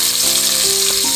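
Onion paste fries in hot oil with a loud, close, continuous sizzle, and a faint tonal whine drifts beneath it.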